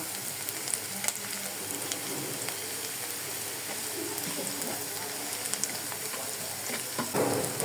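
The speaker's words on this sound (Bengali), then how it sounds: "চুলায় আমি বসিয়ে দিয়েছি তেল দিয়ে, সয়াবিন তেল দিয়ে পেঁয়াজগুলোকে হালকা ভেজে নেব।" Continuous crackling sizzle of onions frying in soybean oil, dense and even, with scattered louder pops and a faint stir near the end.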